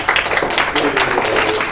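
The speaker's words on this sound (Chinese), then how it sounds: "我们鼓掌啊！" Audience applause at a university entrepreneurship talk in Taipei: a dense, steady patter of many hands clapping at close range, filling the whole short stretch with no gaps.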